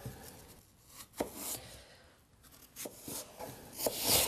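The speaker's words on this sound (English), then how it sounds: "we're going to chop up these apples into nice strips" A knife chops raw apples into thin strips on a board, with irregular, close, crisp cuts and light scraping and no speech.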